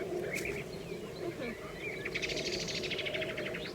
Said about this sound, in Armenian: դուք էլ իմ ծտերի համերգը լսեցեք